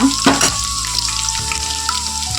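Food frying in a pan for a home-cooked dish, a steady close sizzle that runs without pause, with faint clinks near the start and a sustained tonal hum under it.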